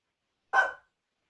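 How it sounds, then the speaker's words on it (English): A single short dog bark, loud and close, rings out alone against silence during a tabletop role-playing game session. "My dogs are barking."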